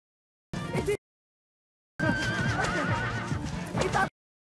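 A horse neighs in two loud, close bursts: a short whinny, a pause, then a longer, shrill, wavering neigh lasting about two seconds, with no talk over it.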